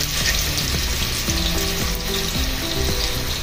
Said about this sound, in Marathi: याला तुपात चांगले मी परतून घेते